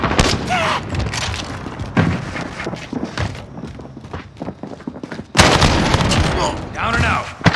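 Automated sentry gun fire in Call of Duty Modern Warfare team deathmatch, heard as dense bursts of gunfire and heavy thumps that ease off mid-clip then return loudly near the end, with game voice chatter mixed in.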